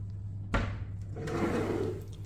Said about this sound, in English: Additional drawers. All soft close.